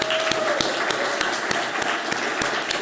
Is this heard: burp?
no